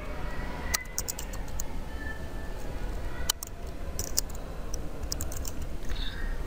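Sentence being typed on a computer keyboard: scattered bursts of quick, light key clicks in small clusters with pauses between, close and fairly quiet over a steady low background hum.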